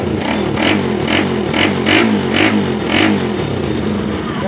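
The engine of a Bajaj Rusi RS200 motorcycle runs loud and close, with a throbbing idle that rises in several quick rhythmic revs, and no one speaks.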